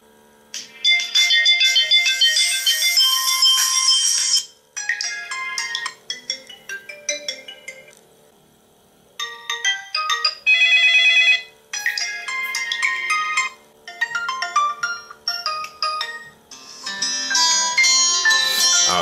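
A melodic ringtone plays from the bottom stereo speakers of a Lenovo Vibe P1 smartphone, bright electronic tones in repeated phrases with short pauses, fairly loud and alone with no talk.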